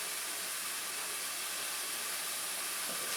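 Onion cooking in a pan for a crabmeat pasta, a steady soft sizzling hiss that carries on evenly and fairly quietly throughout.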